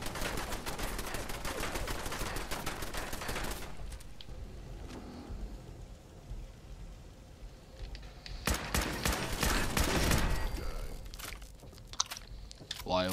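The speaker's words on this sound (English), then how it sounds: "Machine gun turret." A machine gun turret rattles off rapid bursts in Fallout 4, dense continuous gunfire that stops, leaves a quieter gap, then resumes loudly, with a person talking over parts of it.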